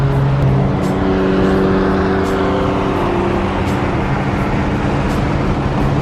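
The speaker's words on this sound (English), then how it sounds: "This car actually sounds really good." Loud, close BMW M car engine drones steadily, with a throaty rev near the start settling into a continuous rumble.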